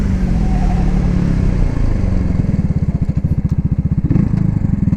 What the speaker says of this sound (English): I'm going to do a hard brake here in 3, 2, 1, stop.